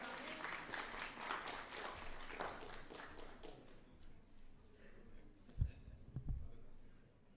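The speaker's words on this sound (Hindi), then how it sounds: "तालियां हो जाएं।" Audience applause at an Indian news stage event, moderately loud clapping that thins out and fades midway, leaving a quieter room with a few scattered taps and bumps.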